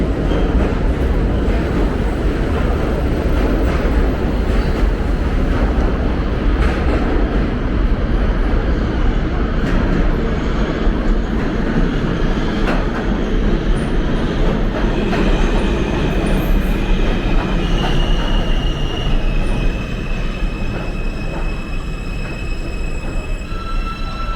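A New York City R-line subway train of R160 cars emerges from a tunnel and rumbles loudly past at close range, wheels clattering over the rails with occasional high squeals, a continuous heavy roar.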